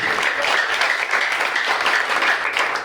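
A church congregation applauds together in a steady, dense wash of clapping that holds at an even level for about three seconds, with no pauses.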